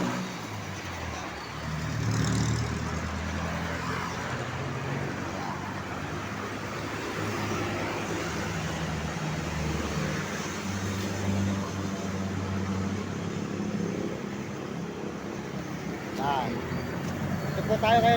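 Steady highway traffic in San Fernando, Pampanga: a continuous low rumble of cars and trucks passing, with occasional louder vehicles, under a person talking.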